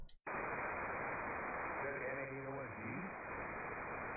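Ham radio static hisses loud and dense across the bands of a FlexRadio receiver, a steady wash of white noise with a brief faint warbling tone partway through.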